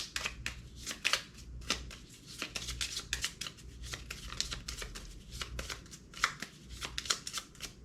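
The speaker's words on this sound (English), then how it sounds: "So I need my action cards. We got to shuffle these up." Cards from an action deck for a World War II Stuka board game being shuffled, a steady run of crisp riffling bursts repeating close up and fairly loud with no talking.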